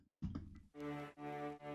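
A brief, quiet reversed sound swells upward and sucks into sustained tonal notes, with a backward, rising attack.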